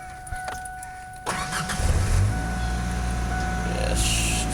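A Honda car engine cranks and struggles to start, then catches into a rough running rumble, close and fairly loud, with a person speaking briefly at the start.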